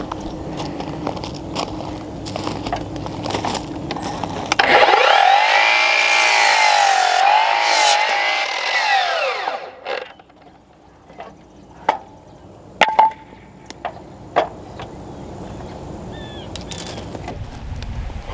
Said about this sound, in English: right now we're just working on cutting down the boards